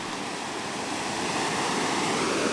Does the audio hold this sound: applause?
no